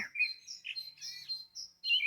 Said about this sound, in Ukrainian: Пташки співають тихо.